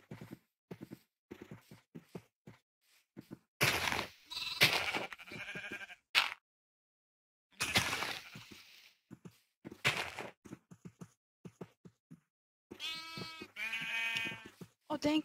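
Sheep bleats from the game Minecraft, several short nasal calls scattered among a player's talk and other game sounds, moderately loud with quiet gaps between.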